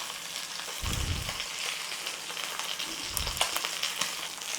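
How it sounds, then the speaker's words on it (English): A pork steak searing in a hot pan, cooked sous vide, hisses with a steady close sizzle and light crackle, with two dull thumps as the meat is turned, and no voices. "start searing it. We want a crust on there. So just turn it over in the pan"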